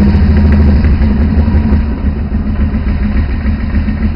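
A four-wheeler engine idles steadily while warming up, a loud, even low rumble with a faint background hiss and no pauses or revving.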